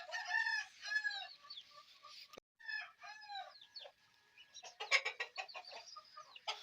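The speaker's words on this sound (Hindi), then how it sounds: "ये दो मुर्गे आपस में टकरा रहे हैं" Two roosters squaring off in a village with a cage between them, giving loud harsh crowing calls and clipped squawks that come in bursts with brief pauses.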